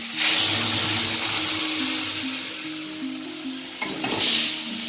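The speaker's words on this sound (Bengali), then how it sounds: "এবার ডালটাকে এর মধ্যে ঢেলে দেবো" A loud, steady sizzle rises as lentils are poured into a hot pan of sautéed vegetables for rava idli sambar, the hiss holding and easing slightly before a brief scrape near the end.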